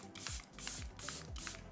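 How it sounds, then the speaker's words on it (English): Facial skincare mist sprayed over the face in three close, loud bursts evenly spaced about half a second apart, each a breathy hiss. "I'm going to spray this all over."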